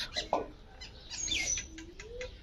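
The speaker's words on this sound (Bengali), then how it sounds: "আমার দেশি কবুতরগুলো খেতে দিয়েছি, ধান খেতে দিয়েছি সকালে" Native domestic pigeons pecking at paddy grain on a winter morning, with scattered soft chirps, a rising call and brief rustles, fairly faint and without talk.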